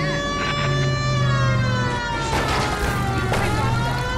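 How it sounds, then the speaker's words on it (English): Wailing police car siren in the L.A. Noire game, a loud rising and falling tone over a low engine rumble, heard close and continuous. "Okay, I'll use the siren."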